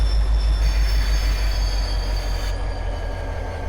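A train rolls steadily along rails in Farming Simulator 25 as part of a logging railway mod, giving a loud continuous low rumble with a high wheel squeal laid over it and no talk.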